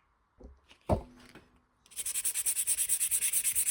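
An epoxy-and-wood knife handle with a cast coin is sanded on a belt. After a couple of soft knocks, a close, quiet rasping starts and repeats in quick, even strokes.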